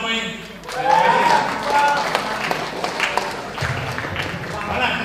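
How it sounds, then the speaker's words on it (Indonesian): Applause from participants at a school workshop on safe school climate, a crowd clapping in a room with voices and chatter mixed in, fairly loud and close throughout. "Tepuk tangan untuk nama ini."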